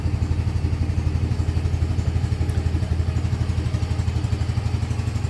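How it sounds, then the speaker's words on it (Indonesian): A Yamaha FreeGo S 125 scooter engine idles while warming up, a steady close, loud putter with a regular low thumping pulse and faint clatter running throughout. "By the way gue sambil nyalain ya, karena sebenarnya niat gue tuh mau manasin motor"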